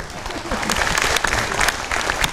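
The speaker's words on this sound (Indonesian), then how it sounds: "Bolehlah kita beri tepuk tangan dulu" Audience applause at a community empowerment event in Salatiga, a dense, steady patter of many hands clapping at fairly close range, with faint voices mixed in underneath.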